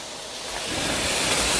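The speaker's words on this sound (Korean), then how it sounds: "그 토지로 올라가는 데는 이렇게 입구에 멋진 폭포가 있어요" A scenic waterfall at the entrance to rural hillside land in Korea, its steady broadband rush of falling water filling the clip at close range with no voices.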